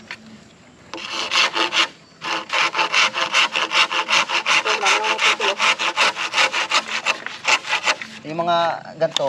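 Hand saw cutting through bamboo in quick rhythmic back-and-forth strokes, loud and close, starting after a short pause and then running steadily, with a brief voice near the end.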